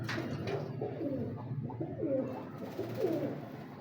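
Kalu Baloch breed pigeons coo softly nearby, several low throaty rolling coos repeating in an uneven rhythm over faint background hum.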